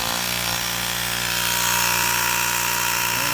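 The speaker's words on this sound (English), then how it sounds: "I'm gonna do just fill it up with air," A cordless air inflator running on an impact-drill battery fills a car tire, a steady loud motor drone with continuous hiss that holds without a break.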